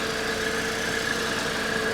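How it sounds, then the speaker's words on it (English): A supercharged straight-four car engine idles a little rough, a steady close mechanical hum with a faint whine running continuously and alone. "It is idling a little rough. But it's a straight 4 with the supercharger."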